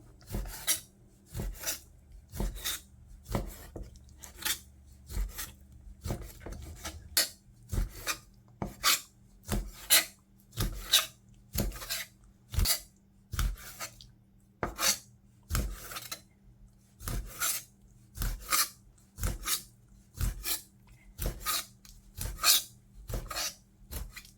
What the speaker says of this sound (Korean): 오징어 먹기 좋은 기를 썰어서 준비해 주고요